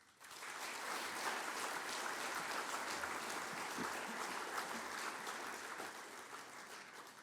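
Sustained applause from an audience at a 2019 young alumni achievers awards ceremony, a steady dense wash of many hands clapping that swells quickly and holds for several seconds before easing slightly at the end.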